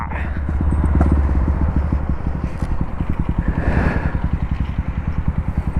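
Yamaha R15 motorcycle engine idling close by with a steady, rapid putter that swells briefly and settles, while people talk faintly in the background at a tourist site in Kurukshetra, Haryana.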